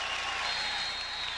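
Broad crowd applause from close to 100,000 spectators at a Penn State college football game against Central Florida, a steady distant wash of clapping with no pauses.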